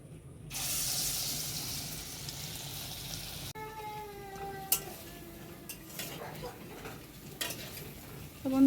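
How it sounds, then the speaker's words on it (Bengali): Lentil fritters (bora) frying in oil in a wok, a steady sizzle, then quieter spattering with scattered clinks of a utensil against the pan, close and moderately loud. "এবার তেল দিয়ে দেবো, কড়াই তেতে গেছে। এরকম গোল গোল করে বানিয়ে নেব সব বড়াগুলো।"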